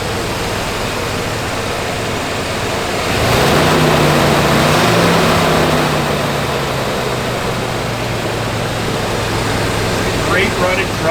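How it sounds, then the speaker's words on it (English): The air conditioning of a 1987 GMC Sierra Classic pickup blows as a steady broadband rush that swells louder after a few seconds and holds, with the engine's low hum underneath and a voice at times. "You hear Nathan just kicked your air on, it blows cold."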